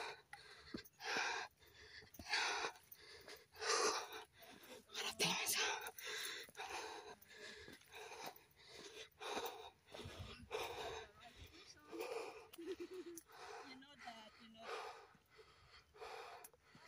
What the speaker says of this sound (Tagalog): naririnig yung hingal ko dyan